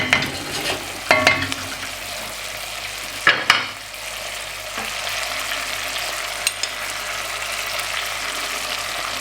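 Flour is stirred into a sizzling pot of beef stew with red wine, a low frying hiss broken by several sharp scraping and clinking strokes of a utensil against the pot.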